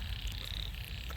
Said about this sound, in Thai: เขียดหอง